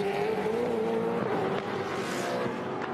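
A Supercars race car at Winton circuit roars steadily past, its engine note rising and falling over three seconds with a faint tyre squeal, loud and continuous.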